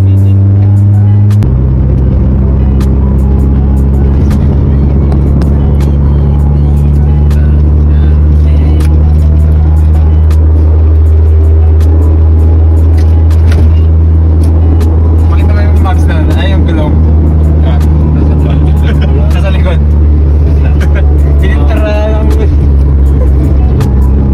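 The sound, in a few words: car driving on the road past traffic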